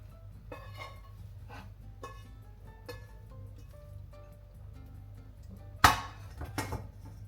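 Cooked eggs are slid from a frying pan onto a plate beside a slice of bread, with a sharp metallic clatter of spatula on pan and a second knock shortly after, over quiet room hum.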